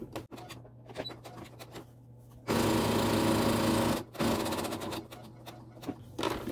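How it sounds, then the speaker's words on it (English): A sewing machine runs a seam close along piping in two bursts, a steady loud whir for about a second and a half, a short pause, then a second run, with a few quieter clicks before and after. "And now I want to be sewing even a little bit closer toward the piping."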